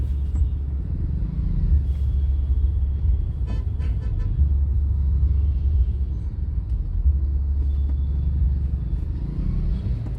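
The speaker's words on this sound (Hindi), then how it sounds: "भाई मस्त ट्रैफिक है।" Road traffic in Noida, with cars idling and moving. A steady low engine rumble is close by, and scattered faint horn toots sound in the distance.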